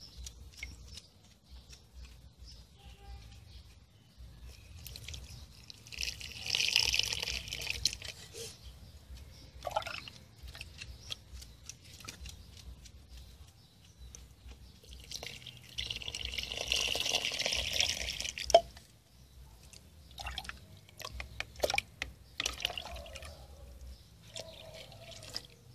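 Beet water is poured from a bucket onto desert rose plants in bursts, each giving a few seconds of splashing and trickling. Between the pours come drips and quieter stretches.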